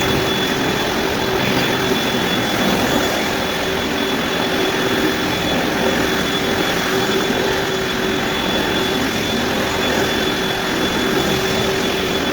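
A floor machine strips heavy wax buildup from a hardwood floor, giving a steady, loud, unbroken mechanical drone with a constant whine that holds throughout with no talk.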